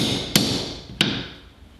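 Two light, sharp hammer taps on wood to start a drill hole, spaced under a second apart, close and crisp against a quiet room.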